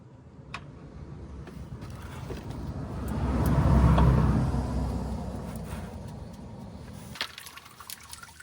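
Engine oil drains from a car during an oil change, a steady liquid pour with a broad rushing wash that swells in the middle and then eases, along with a few light clicks and knocks close by.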